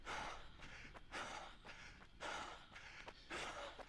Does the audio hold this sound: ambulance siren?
no